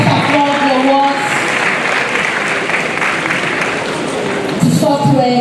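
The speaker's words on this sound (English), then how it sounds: "Parents, let's applaud the awards" Audience applause breaks out at a graduation ceremony, a dense wash of clapping from a crowd of parents and guests, with an amplified announcer's voice talking over the start and end.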